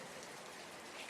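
Steady rain pours down in a dense, even hiss, constant and unbroken for the whole stretch with no voices.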